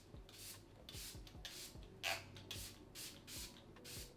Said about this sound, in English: I use the Smashbox Photo Finish spray, and I just spray my face.